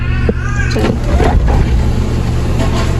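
A 1997 Honda Ferio's engine runs at a steady idle, a loud, close, low throbbing hum that holds unchanged throughout.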